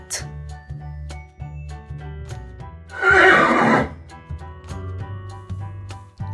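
A horse gives one loud, shrill neigh in the middle, over a light musical backing with rhythmic clip-clop beats.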